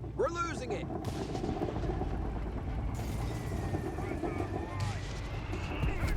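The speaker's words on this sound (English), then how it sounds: "Mortar firing down death on them." Mortar fire in the real-time strategy game Company of Heroes 3, muffled battle booms and mechanical rumble amid dense continuous game noise with whistling shell sounds.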